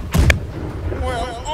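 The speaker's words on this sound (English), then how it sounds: "I just feel like the front cannon is a bit too loud." Cannon fire in the pirate ship game Blackwake: a single loud, sharp boom with a short follow-up blast close by, followed by a fading rumble and faint background game noise.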